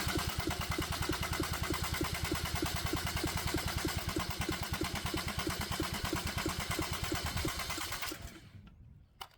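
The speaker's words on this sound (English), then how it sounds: "we can start this tiny engine up" A tiny Kubota diesel engine, just given a rebuilt fuel injection pump, runs close and loud with a rapid, even knocking beat for about eight seconds, then cuts off abruptly into near silence.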